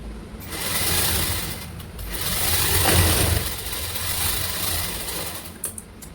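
A sewing machine runs steadily while stitching a blouse, its loud, close mechanical whir holding nearly unbroken for several seconds, with a brief dip early on and a few small clicks near the end.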